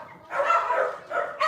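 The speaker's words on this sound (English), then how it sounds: "Who are they barking at?" Dogs bark indoors in two short bursts, moderately close and fairly soft, separated by a brief pause.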